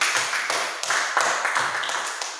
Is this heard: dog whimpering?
no